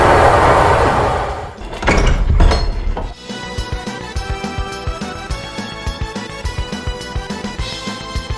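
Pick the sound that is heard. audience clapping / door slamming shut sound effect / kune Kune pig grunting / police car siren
door slamming shut sound effect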